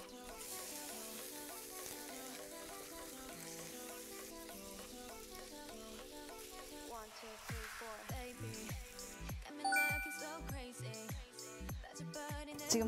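Korean tangguk soup cooking in a pot for a Gyeongsang-style holiday meal, with soft sizzling and bubbling, a quiet kitchen background that grows busier with clinks and stirring toward the end.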